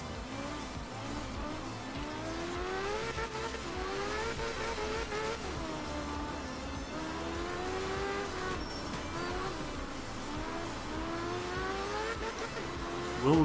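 A rally car in the video game Art of Rally drifts through corners, its engine revving and wavering continuously with tire squeal, loud and close throughout without pause.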